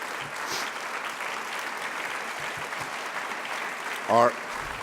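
Sustained audience applause fills a hall at an event with the Senate Minority Leader, a steady wash of many hands clapping throughout, with a brief voice near the end.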